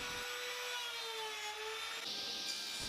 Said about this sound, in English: just putting the chamfer on the edge now, on the jarrah. I put my small router in the vise.